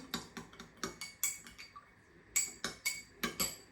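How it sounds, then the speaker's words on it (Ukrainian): A spoon clinks rhythmically against a small bowl or cup while stirring spices, quick repeated taps with a brief pause midway, close and fairly quiet. "Все це гарненько перемішую."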